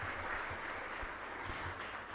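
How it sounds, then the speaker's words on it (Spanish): Applause from worshippers at a Catholic Mass during a novena in Ñemby, heard as a fairly faint, distant wash of clapping with low murmurs beneath. "Fuerte aplauso entonces para todos ustedes."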